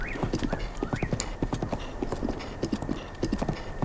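Hooves clip-clop in a brisk steady rhythm as a horse gallops in Zelda: Breath of the Wild, with short whinnies near the start, all at moderate volume.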